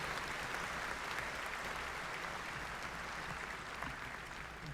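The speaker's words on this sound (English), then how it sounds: "How about another big round of applause for the Honorable Roland Burris?" A commencement audience applauds for the Honorable Roland Burris, a dense, steady wash of clapping from a large crowd that holds evenly throughout and fades slightly at the end.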